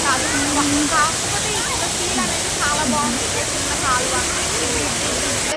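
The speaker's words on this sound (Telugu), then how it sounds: "ఇది వచ్చేసరికి వాటర్ ఫాల్స్" A waterfall in a park in Chennai gives a steady, loud rush of falling water that fills the whole clip, with voices and chatter from people nearby mixed in over it.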